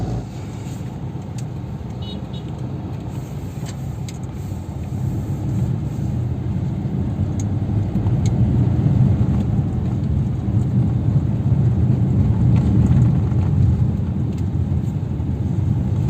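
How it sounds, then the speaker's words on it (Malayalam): A Maruti Suzuki Dzire with newly changed shock absorbers is test-driven on a rough road, heard as a steady low cabin rumble of tyres and engine that gradually grows louder, with no talking. "അപ്പോൾ നമ്മളിത് ടെസ്റ്റ് ഡ്രൈവ് ചെയ്തുകൊണ്ടിരിക്കുകയാണ്."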